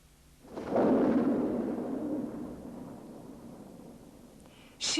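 A deep crack of thunder booms in after a brief quiet, then rumbles and slowly fades over several seconds; a sharp new burst starts right at the end.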